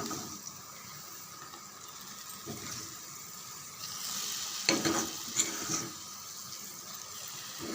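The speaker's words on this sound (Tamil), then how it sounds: "ஸ்டவ் ஆஃப் பண்ணிவிட்டு பக்கத்தில் இருக்கிற சாம்பாரில் அப்படியே கொட்டிடலாம்" Hot tempering is tipped into a pot of sambar on a switched-off stove, giving a steady frying hiss that swells into a louder sizzling burst partway through, then settles back to a softer crackle.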